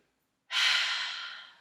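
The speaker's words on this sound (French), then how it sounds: "Une bonne grande inspire." A deep, long inhale during a stretching cool-down in a fitness class, one breath drawn in through the mouth that swells quickly and then fades slowly, close and clear with no talk.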